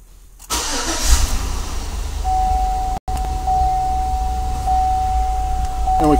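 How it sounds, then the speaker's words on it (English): A 2003-2006 full-size Chevrolet or GMC truck started by remote, the engine catching and settling into a steady, close idle with a brief dropout midway and a faint tonal whine over the running engine. "You're going to start the vehicle."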